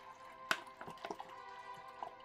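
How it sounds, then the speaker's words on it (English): Water drips and small splashes into a filled container, a few sharp plinks and light sloshes spread across a short, quiet stretch, close by with no talking. "Oh, don't splash."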